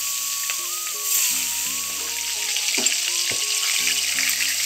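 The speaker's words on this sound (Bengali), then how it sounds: "আমার মাছ ভাজা হয়ে গেছে, এইভাবে লাল লাল করে আমি ভেজে নিচ্ছি।" Katla fish pieces fry in hot oil in a wok, a loud steady sizzle heard close, with a few bubbling bursts and a low tonal hum running beneath.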